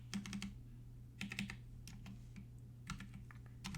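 Typing on a computer keyboard while building a chat page for an iOS app: bursts of close, crisp key clicks in quick clusters with short pauses, alone over a low steady hum.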